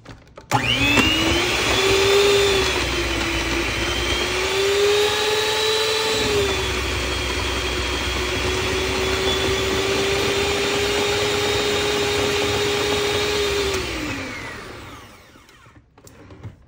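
An electric stand mixer whirs steadily for about fourteen seconds while beating vegan pumpkin sugar cookie dough, a loud continuous motor whine that shifts pitch slightly partway through, then winds down and stops.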